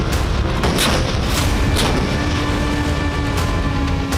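K9 Vajra 155 mm self-propelled artillery gun firing in the field, heavy booming reports over a loud rumbling background, with several distinct blasts spread across the span.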